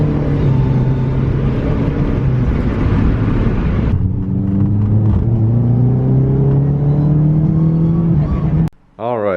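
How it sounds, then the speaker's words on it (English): A Mitsubishi Lancer drives on a short trip home, its engine humming loud and close from inside with gradual rises in pitch as it accelerates, before cutting off abruptly at the end. "Short little drive back home."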